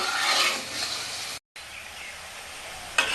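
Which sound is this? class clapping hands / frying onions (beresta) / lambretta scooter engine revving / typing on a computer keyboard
frying onions (beresta)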